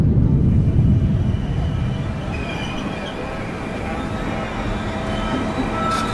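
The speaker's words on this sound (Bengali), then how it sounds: "স্টেশনে ট্রেন থামতেই হ্যাটকোট পরা সুরনাথবাবু নেমে পড়লেন।" A train sound effect in a Bengali horror audio drama, a heavy rumbling roll of rail wagons that eases slightly, loud and continuous, with a faint screech near the end.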